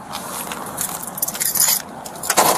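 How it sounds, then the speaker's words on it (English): Keys jangle and clink close up as they are handed over from a truck driver during a police stop, a few bright rattling bursts with no talk. "Give me the keys."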